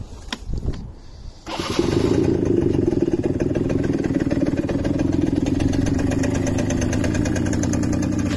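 A 2018 Keeway Hurricane 50cc commuter motorcycle is started with a short cranking burst, then catches and settles into a steady, close, loud idle with a light mechanical clatter.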